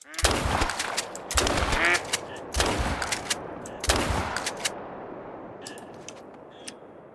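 Four loud shotgun blasts from a 20 gauge semi-automatic or 10 gauge in theHunter: Call of the Wild, spaced about a second apart, echoing at a marsh while ducks honk and quack around them.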